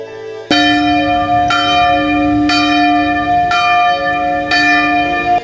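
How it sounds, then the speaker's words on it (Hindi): A large mealtime bell rings loudly, struck about once a second, each clang leaving a long, rich ringing tone that overlaps the next. "खाने का समय हो जाता है और घंटी की आवाज सुनाई देती है।"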